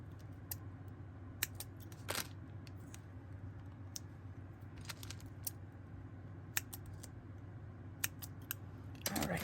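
Purple scissors snip a paper fish tail banner strip in a series of sharp, close, quiet cuts spaced irregularly over a faint steady hum, ending with a quick cluster of snips.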